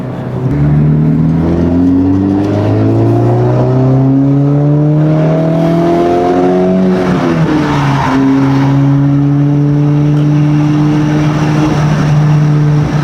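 A Honda FL5 Civic Type R with an AWE Touring aftermarket exhaust drives along, its loud close engine note rising steadily through a gear, briefly dipping at a shift, then holding a steady drone; no talk.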